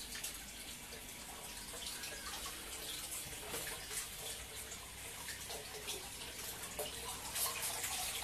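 Water drains and trickles out of a bottle in a quiet outdoor garden setting, a faint continuous splashing gurgle with scattered drips, heard alone at low level.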